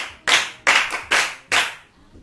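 At a Yoruba children's programme, the audience claps for a child in four distinct, evenly spaced bursts of applause, near and clear, with no talking.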